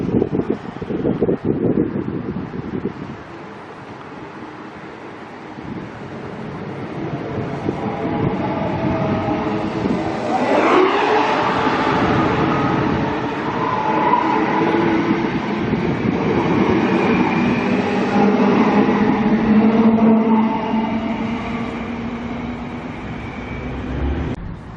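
An IMU electric train set departs Coyle station for Digby North, its traction motors rising in pitch with a whine that climbs and sweeps upward as it pulls away, alongside rolling wheel noise and wind buffeting the microphone.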